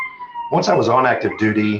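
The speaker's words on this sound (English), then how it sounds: "those sirens are not coming for me if you can hear those in the background." Emergency sirens wail in the background, holding steady tones alone for about half a second before a person starts talking over them, the sirens fading under the speech.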